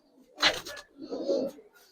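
A Pakistani high flyer silver pigeon gives a short, soft, close coo after a brief rustle, with a quiet pause between the two sounds.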